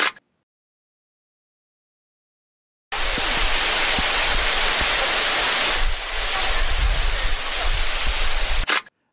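Tiffany Falls waterfall pours in a steady, loud broadband roar that starts abruptly after a few seconds of silence, shifting slightly midway and holding close and constant with no voices.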